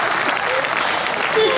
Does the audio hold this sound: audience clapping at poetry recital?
yes